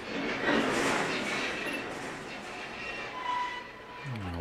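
A heavy freight train in Train Simulator 2019 pulls away under power, couplings stretching with a rumbling, rolling wash of noise, then a rising tonal whine and low pulsing near the end; no one speaks.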